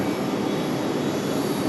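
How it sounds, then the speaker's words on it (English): Boeing 757 jet airliner, about 31 years old, approaching on a plane-spotting stretch at Raleigh-Durham International; a steady, broad engine roar holds at an even level throughout with no voices. "but the 757 headed our way, delivered back in 1995"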